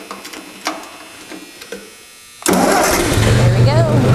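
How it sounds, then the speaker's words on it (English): Quiet talk and clicks give way to a tractor engine started with one push of a button, firing up abruptly and running loud and steady at close range. "That started easily, just with one push on the button and it starts."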